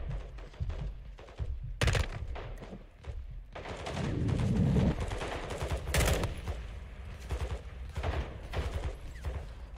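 Rapid automatic gunfire from a gun in the video game Modern Warfare II, with repeated bursts and sharp loud shots throughout, a dense busy mix of rattling fire and game effects.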